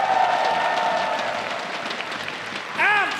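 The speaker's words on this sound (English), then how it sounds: "One more round of applause for our incredible cosplayers." Audience applause for cosplayers at an esports event in Kuala Lumpur fills a large hall with steady clapping that slowly fades, and a short burst of music follows near the end.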